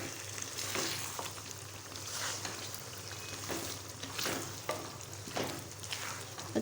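Chicken and tinda sizzle in a pan while spices such as turmeric and salt are stirred in, a soft continuous frying hiss broken by repeated scraping strokes of the spoon, quiet and close with no talking.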